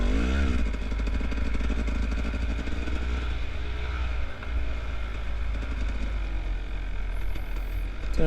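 Off-road motorcycle engine during a race lap in a 2016 cross-country event, revving hard and continuously close up with rattling, clattering ride noise, pitch rising and falling over rough terrain.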